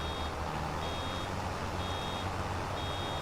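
Steady reversing beeps from a farm vehicle in Farming Simulator 25, sounding as a repeating high tone over a continuous engine rumble, with no talking.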